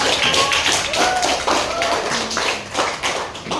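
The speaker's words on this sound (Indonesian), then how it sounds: "Kita berikan tepuk tangan dulu untuk Radita." Classroom applause for a student in an Indonesian school lesson: a burst of many hands clapping quickly and irregularly, close and fairly loud, with scattered voices mixed in.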